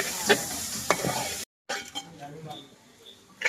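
Sliced onions sautéing in a pan while being stirred for a Kerala beef liver dish: a lively sizzle with sharp scraping strokes of the spoon and a brief silent gap, then quieter frying, with voices talking alongside.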